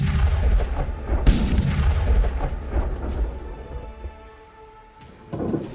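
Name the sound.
missile strikes and bombardment on Lutsk, Ukraine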